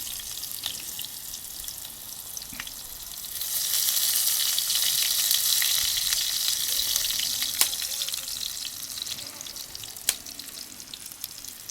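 Ikea meatballs fry in a pan on a wood stove, giving a steady crackling sizzle that swells louder partway through, with occasional sharp pops and clicks.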